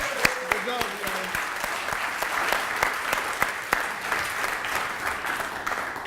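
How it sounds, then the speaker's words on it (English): An audience at an urban streams symposium gives students a steady round of applause, with many hands clapping together and a few sharper nearby claps standing out. "Can you give these students another round of applause?"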